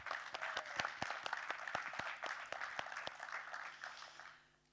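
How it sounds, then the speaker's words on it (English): Applause from an audience at an industry roundtable panel at the WGC Congress 2020+1, with distinct sharp claps over a moderate clapping wash that fades out at the end. "Give them an applaud"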